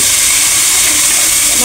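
A splash of water hits frying spice masala of chilli, cumin, coriander powder and turmeric, producing a loud, continuous sizzling hiss that stays steady from start to finish.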